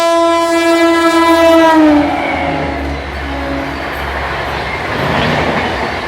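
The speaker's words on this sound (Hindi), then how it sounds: "तो ये थी दोस्तों अपनी चंडीगढ़ न्यू दिल्ली शताब्दी एक्सप्रेस" The Chandigarh-New Delhi Shatabdi Express passes near Gannaur railway station, sounding a loud, sustained horn up close, then fading into the steady rumble and clatter of the passing carriages.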